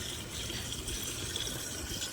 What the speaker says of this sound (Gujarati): પાણી ભરવા આવ્યા છે પીવાનું